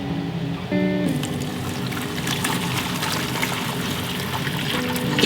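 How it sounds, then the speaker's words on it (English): Water pours steadily into a tarantula's enclosure to humidify the substrate, a continuous close trickle lasting several seconds without speech. "You'll want to add a little water, just to keep it humid."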